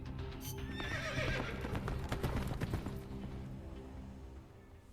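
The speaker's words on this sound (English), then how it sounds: "Un cavallo." A horse whinnies loudly over a flurry of clip-clopping hooves in Metal Gear Solid: Peace Walker, the neigh rising and falling before the hoofbeats fade.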